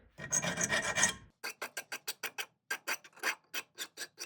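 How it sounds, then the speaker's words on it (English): A hand file rasps burrs off a metal spoon ring, first a continuous scraping rub, then a rhythmic run of about a dozen short, crisp strokes, close and clear with no talk. "We're gonna file this down."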